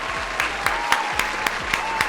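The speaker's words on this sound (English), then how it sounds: "Definitely got to clap it up for him on that one." Handclaps from what sounds like a small group, landing in an even, regular beat of about eight distinct claps over a faint background hum.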